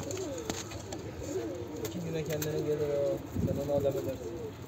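A kırlangıç tip pigeon coos softly and repeatedly while being fed, close by, with a voice talking over and around the low cooing.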